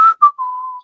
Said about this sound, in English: Only thing I'm gonna do is I'm gonna walk into work whistling.